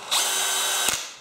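A Dewalt DCD996 cordless drill spins up quickly, runs at a steady high whine for about a second, then winds down, close and loud with no talking.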